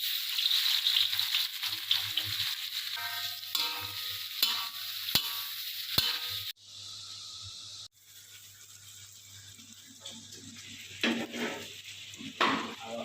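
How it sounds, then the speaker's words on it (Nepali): Potatoes sizzle in a pan while a utensil scrapes and stirs intermittently; the frying hiss is steady and close. "आलुलाई भुट्ने हो"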